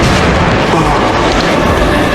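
A series of propane explosions tears through the La Chima neighborhood of Cuzcatlan, El Salvador, heard as a dense, continuous roaring rumble that is loud and saturated throughout.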